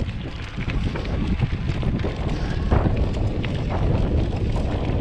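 Heavy wind noise roars across the microphone during an off-road ride on a SameBike L026 Version 2 e-bike, a loud, continuous, rumbling buffeting with no voices.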